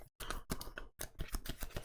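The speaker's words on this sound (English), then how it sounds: "That's why I'm shuffling my discard pile." A discard pile of KeyForge cards is shuffled by hand in rapid, crisp bursts of flicking and clattering card stock, with a few short pauses between riffles.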